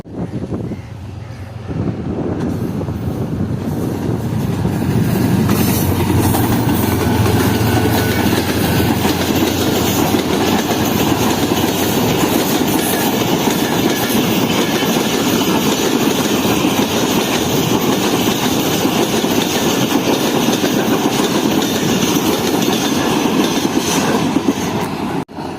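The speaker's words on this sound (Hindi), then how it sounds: "तो ये जी 38 डाउन बाबा फरीद एक्सप्रेस" Baba Farid Express, a 38 Down train led by a GU 20 locomotive, rolls past at Dabheji: a loud, steady roar with rhythmic clickety-clack of wheels over rail joints, sustained close by for the whole stretch.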